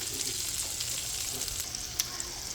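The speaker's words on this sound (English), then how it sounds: "Now I'm melting the butter using the same pan that I cooked the chicken in." Butter melts in a frying pan that was just used to cook chicken, giving a close, steady, bright sizzle with an occasional faint clink and no talking.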